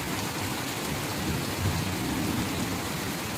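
Heavy rain falls outdoors in a continuous, even roar of dense drops, loud and unbroken, with no other sounds over it.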